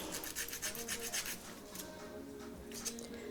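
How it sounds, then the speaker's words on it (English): A nail file rasping back and forth across toenails during a home pedicure, a soft, close, rhythmic scratching in quick strokes that grows steadier and quieter toward the end, with no talking. "just use your nail file till you get the length that you desire"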